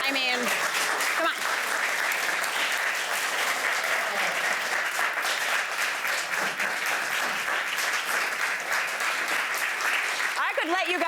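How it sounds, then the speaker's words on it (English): A studio audience at a cooking and lifestyle show applauds loudly and steadily for about eleven seconds, a dense wash of clapping with a voice briefly audible near the start and end. "Let you guys keep clapping because this is the best."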